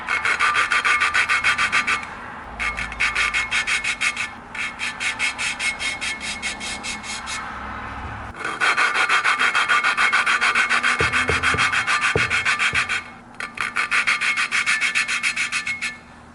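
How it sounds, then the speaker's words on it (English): A file works on a snapped valve from a 1995 Kawasaki KLX250 motorcycle engine: close, harsh rhythmic rasping strokes in long runs, broken by short pauses, with a few faint clinks in between and no talking. "I'm going to just keep filing that until I don't hear any gritty no more."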